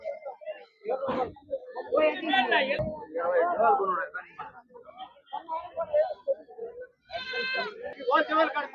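Goats bleat repeatedly amid a crowd of people talking, with several bleats rising over the chatter at a busy sheep and goat market in Gudur, India.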